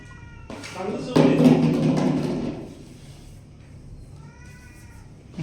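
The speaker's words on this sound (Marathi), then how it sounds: "मांजर" A cat gives loud, drawn-out meows close by in a village where a large cobra has turned up, with people talking over them. Softer meows follow.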